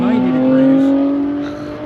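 A loud car drives by on a street in Vicksburg, Mississippi, its engine a steady droning hum with a sustained tone that fades slightly as it passes, close and prominent.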